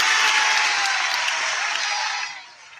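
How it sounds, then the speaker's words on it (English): A crowd bursts into steady, dense applause that holds loud and even for over two seconds before tapering off sharply near the end. "The crowd goes wild."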